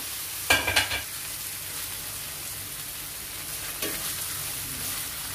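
Sliced onions with ginger-garlic paste and curry leaves sizzle in a pan with a rain-like crackle, broken by a couple of louder scraping stirs, without speech.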